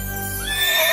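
A single horse's neigh, close and loud, rising into a shrill whinny over about a second in a fairy-tale scene where mice become horses.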